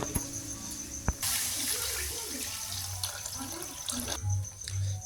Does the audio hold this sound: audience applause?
no